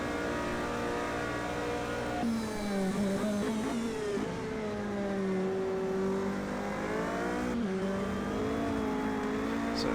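A Corvette GTE race car in a racing game, its engine droning loudly and steadily, with the pitch rising under throttle and dipping through gear changes and braking.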